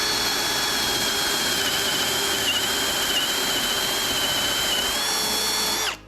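A Milwaukee M18 FPD2 cordless drill fitted with a 32 mm Forstner bit runs steadily in first speed, a loud, even whine that holds for about six seconds and then cuts off sharply.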